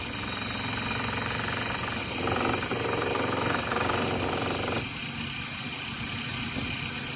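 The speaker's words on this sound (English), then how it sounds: "all I'm going to do is I'm just going to turn on the lathe." Wood lathe running in a workshop while a bowl is being turned, a steady mechanical hum and rattling drone, fairly loud and continuous with slight shifts in tone.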